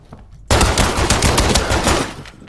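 Rapid automatic gunfire in a video game shooter, a loud sustained burst of many closely spaced shots that starts abruptly and runs about two seconds before easing off.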